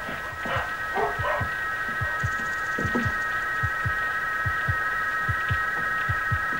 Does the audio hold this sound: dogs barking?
yes